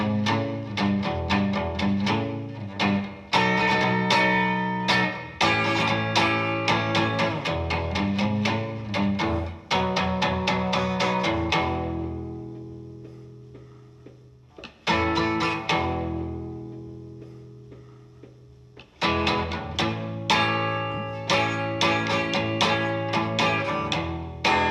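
Guitar playing the intro and verse of a song in a steady rhythmic strummed pattern with repeated riffs, a brief sustained pause midway, then resuming, clear and close without voices.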